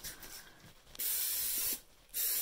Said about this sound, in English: I'm going to spray a little bit of